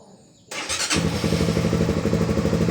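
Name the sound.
vehicle engine starting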